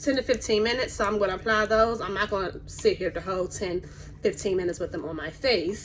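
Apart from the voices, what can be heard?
No everyday noise stands out behind the speech.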